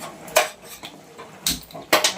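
A metal pot set down on a gas stove while cooking carrot halwa in a home kitchen: three or four sharp metallic clanks and knocks spaced apart, close and fairly loud, with no talking.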